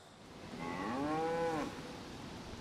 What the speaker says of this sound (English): we heard cows mooing in the distance